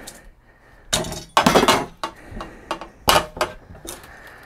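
Glass pane being worked free of a rusty 1956 VW Beetle pop-out window frame, a run of sharp clinks, knocks and rattling thunks in uneven bursts, close and fairly loud, with no talking.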